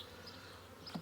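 Honey bees buzz steadily around a hive started from a three-pound package of bees of all ages, a soft continuous hum with a brief louder swell near the end, alone with no talking.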